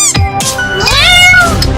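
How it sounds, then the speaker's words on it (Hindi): A cartoon kitten meows loudly and close, with a few drawn-out, rising and falling cries in quick succession, alone without talk. "अरे ये तो म्याऊ म्याऊ क्यों कर रहा है? लगता है इसे भूख लगी है।"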